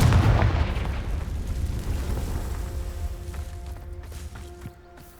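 A Confringo blasting spell going off in Hogwarts Legacy, a loud booming burst at the start that rumbles and fades into a long decaying tail with faint game sounds after.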